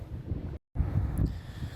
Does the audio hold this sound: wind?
yes